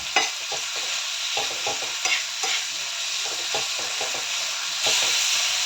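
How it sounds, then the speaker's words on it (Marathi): Spicy tomato thecha roasting in a pan while being stirred, a steady close sizzle and frying hiss broken by repeated scraping strokes of the spoon, with a louder burst of sizzling toward the end. "तर मस्त भाजून घ्यायचा ठेचा"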